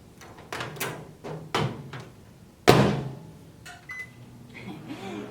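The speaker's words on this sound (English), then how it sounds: "you gotta slam that door shut or she says it's not working" A microwave oven door is slammed shut in a home kitchen, one loud sharp thunk standing out after several lighter knocks and handling clatters nearby, with faint movement afterward.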